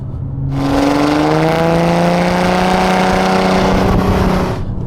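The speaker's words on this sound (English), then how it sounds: "Now, that exhaust, loud it may be, does sound amazing." An Audi A5 3.0 TDI diesel development car with a loud tuned exhaust revs up hard, a deep booming drone rising steadily in pitch and sustained for several seconds before dropping away abruptly.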